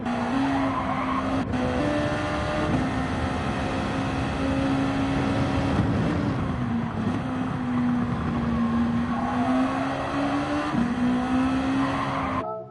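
A race car accelerates hard out of the last corner, its loud engine droning continuously and climbing in pitch with brief dips at gear changes, close and unbroken for the whole stretch.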